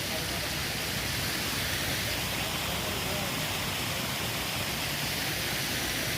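A forest stream near Ajodhya in Purulia rushes steadily, a dense, broadband roar of water that fills the whole stretch without pause; a voice is faintly present beneath the flow.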